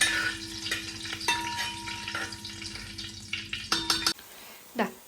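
Sliced green chilies and shallots sauté in a pan, a soft close sizzle with scraping stirs and a steady hum, ending in a few clinks and a short silence.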